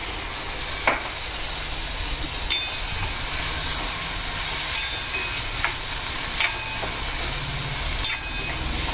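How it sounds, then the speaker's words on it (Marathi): Tomatoes softening in a pan over low heat for jowar rava idli, a soft continuous sizzle with periodic light clicks of a spatula, close and fairly quiet throughout. "आता ही आपल्याला टोमॅटो छान शिजवून घ्यायचं आहे"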